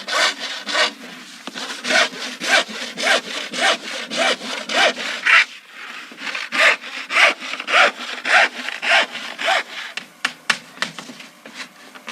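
Hand saw cutting paired wooden boat planks (strakes) tacked together, steady back-and-forth strokes in a brisk even rhythm, close and loud, with a brief pause partway through.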